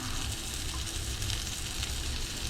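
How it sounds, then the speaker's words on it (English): Flank steak frying in melted butter with onions and chili in a hot pan, a steady dense sizzle that stays even and fairly close throughout with no talking. "basically once the butter's melted, I'm going to throw in the steak"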